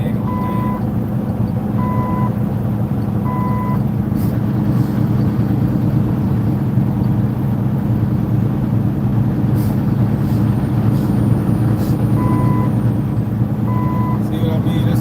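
A truck's reversing alarm beeps at a steady, evenly spaced pace, pausing in the middle and returning near the end, over a loud, constant engine rumble.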